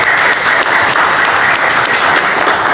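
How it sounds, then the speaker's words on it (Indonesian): A crowd at an inauguration ceremony in a pendopo hall applauds for Pak Rianta, a loud, dense and continuous wash of clapping that holds steady from start to finish without speech. "Kita aplaus, berikan tepuk tangan untuk Pak Rianta."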